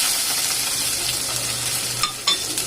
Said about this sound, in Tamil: கொஞ்சம் கருவேப்பிலை போட்டு நல்லா இதை வதக்கணும்.